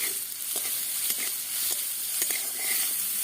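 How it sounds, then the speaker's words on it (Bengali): Spices, chopped green chilli, turmeric and salt stir-fried in a pan for a potato paratha filling, a steady close sizzle with light scraping strokes of a spatula at intervals. "একটু নেড়ে চেড়ে ভেজে নেব"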